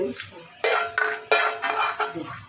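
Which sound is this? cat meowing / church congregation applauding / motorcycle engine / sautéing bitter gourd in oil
sautéing bitter gourd in oil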